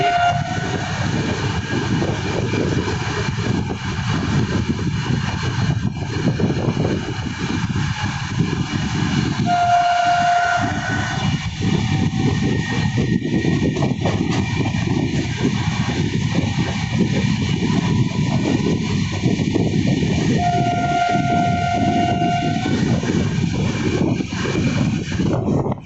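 A train runs along the opposite line past a railway junction, a continuous heavy rolling rumble with intermittent tonal horn or whistle notes sounding over the top.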